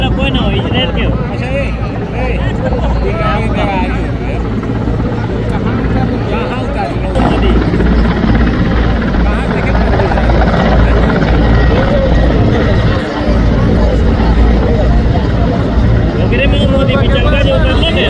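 Air Force helicopters at a prime ministerial rally in Deoghar, Jharkhand, with a loud, steady rotor and engine roar running the whole time beneath a noisy crowd and voices.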